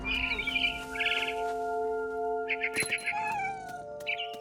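A cat in the video game What Remains of Edith Finch gives a couple of drawn-out meows, mixed with bird chirps and a steady ambient drone, a sharp knock landing in the middle.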